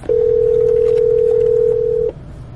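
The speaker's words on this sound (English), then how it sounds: "this bitch is gonna answer her phone" A steady single-pitched telephone tone sounds as a call is placed, loud and close, holding for about two seconds before cutting off.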